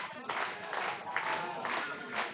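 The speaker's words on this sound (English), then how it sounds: "The clapping has begun." A crowd at a baseball game, a regional elimination matchup between the Hardhats and Harrisburg Gold, claps in a steady rhythmic beat during a full count, sounding somewhat distant and filling the air with repeated pulses.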